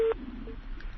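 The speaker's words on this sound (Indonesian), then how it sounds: "mohon maaf telepon terputus" A telephone busy tone sounds right after a call to a live Indonesian broadcast drops, a short steady beep that cuts off quickly, leaving faint room hiss.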